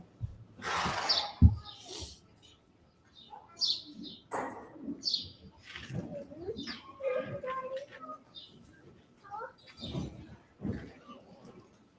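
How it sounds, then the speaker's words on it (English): Birds sing loudly outdoors at a live auction, bright chirps and calls popping up repeatedly near and far, mixed with scattered voices of people talking in between. "People that are watching from home are commenting on how loud the birds are."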